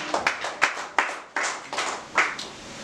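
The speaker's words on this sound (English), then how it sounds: "You can give a clap to the Lord." Scattered congregation clapping at a Sunday church service, a handful of distinct, separate claps with irregular spacing, fairly close and without voices over them.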